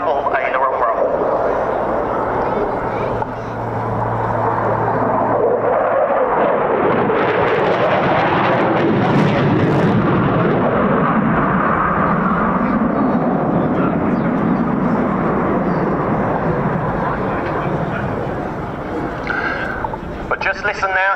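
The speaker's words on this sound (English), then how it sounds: "Once again, Tom opening those throttles up even further, just below 700 miles per hour on this pass." Typhoon-style fighter jet making a high-speed pass near 700 mph at an RAF Cosford air show, a loud roaring rumble that swells and fades, with a commentator talking over it throughout.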